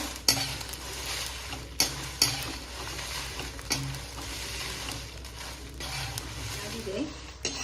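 Dried red chilies and cumin seeds roast in a pan with a steady dry sizzle, and a spoon scrapes and stirs against the metal at intervals, making sharp clinks and scrapes.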